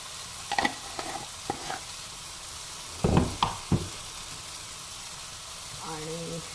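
Eggplant, potato and prawn bhaji sizzles steadily in a pan with garam masala added, while a spoon stirs and scrapes in a few scattered bursts and a voice speaks briefly near the end.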